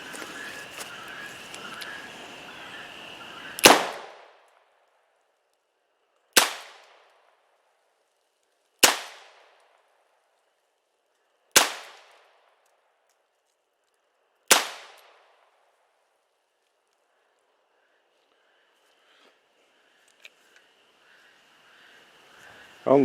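.44 Magnum revolver firing midrange loads double action, five loud separate shots spaced a few seconds apart, each with a sharp crack and quick decaying ring outdoors, with quieter background noise before and after.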